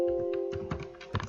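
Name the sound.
typing the word flower on a computer keyboard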